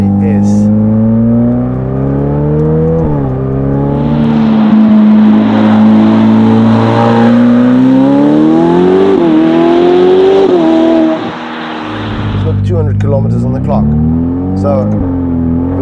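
A Novitec Ferrari F8 N Largo with its flap-actuated exhaust open revs up close, its loud engine note rising and falling in repeated sweeps, climbing to a sustained high-rev roar before dropping back to a deep idle burble.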